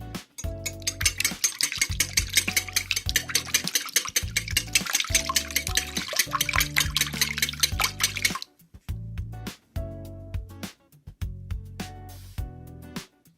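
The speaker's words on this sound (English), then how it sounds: "it says to vigorously mix until bubbly" Eggs and milk whisked vigorously by hand in a large bowl for lemon pound cake batter, a steady rapid sloshing and clinking that runs for about eight seconds, then breaks into short bursts.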